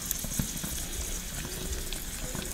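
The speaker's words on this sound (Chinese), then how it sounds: "哦，他做煎饺啊。" Pan-fried dumplings sizzle steadily in a small pan, a dense and even crackle of hot oil that runs for the whole stretch without any voices.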